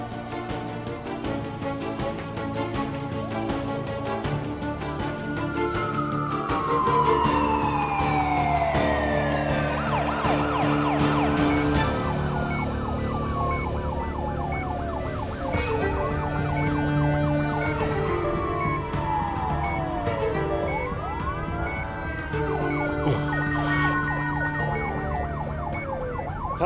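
An ambulance siren wails continuously and loudly for the whole stretch, its rising and falling sweeps repeating over steady road noise, with no voices, during a medical emergency.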